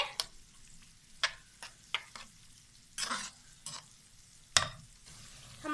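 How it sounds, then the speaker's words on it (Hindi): Onions frying in oil in a kadai are stirred with a spoon, giving sharp scraping strokes at irregular intervals over a faint sizzle, close and clear, with no talk. "इसमें हम प्याज डाल देंगे। इसे हम तब तक पकाएंगे कि हमारा प्याज सॉफ्ट हो जाए।"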